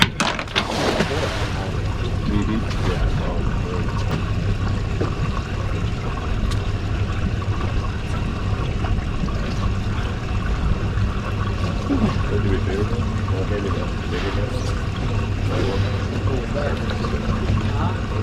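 A boat motor runs offshore near Tampa Bay as a steady, continuous drone with wind noise buffeting the microphone throughout.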